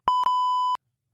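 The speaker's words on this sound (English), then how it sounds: "the beeps for every time that we say Ohio State" Electronic censor beeps dropped over a banned word on a sports podcast: a short tone, a brief gap, then a longer sustained tone, loud and clean with no talk.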